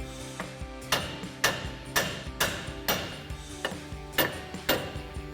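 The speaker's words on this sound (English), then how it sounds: "take a hammer and just strike the side of the knuckle to get that ball joint to pop free" A hammer strikes the steel steering knuckle of a Chevrolet Silverado 1500 to pop the ball joint free, about eleven sharp metallic blows in a steady rhythm roughly twice per second, loud and close.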